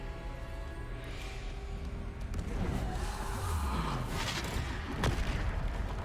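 Bombarda and Repulsor combat spells cast in the video game Hogwarts Legacy, producing a dense, continuous run of booming blasts and rumbling impacts layered over busy battle noise, with heavier hits after the midpoint.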